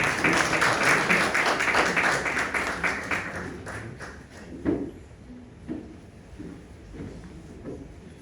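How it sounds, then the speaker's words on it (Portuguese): Audience applause at an evening event in Angola, dense clapping filling the room at first, then thinning out into scattered individual claps and a few louder isolated ones toward the end. "Uma salva de palmas para eles"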